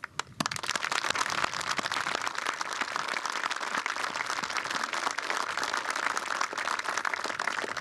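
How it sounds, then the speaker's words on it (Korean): A large crowd at an Armed Forces Day ceremony breaks into sustained applause for the soldiers, dense, even clapping that starts abruptly and holds loud throughout. "자랑스러운 우리 군 장병들의 노고를 취하며 큰 격려의 박수를 보냅니다"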